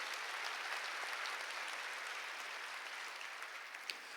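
A church congregation applauds together during a sermon, a dense, even wash of clapping that holds steady and fades slightly toward the end, heard from within the crowd.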